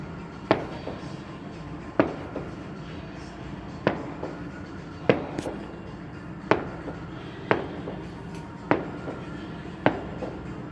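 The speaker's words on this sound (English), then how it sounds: "finally got you some fireworks" Victoria Day fireworks bursting over a Canadian neighbourhood, seen from a house and garden, with sharp distant pops spaced every second or so above a steady hiss of background noise.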